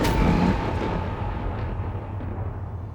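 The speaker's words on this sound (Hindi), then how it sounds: "ये कैसी गड़गड़ाहट है?" Thunder rolls from the clouds, a deep, heavy rumble that breaks loud at once and then slowly fades, with no voices over it.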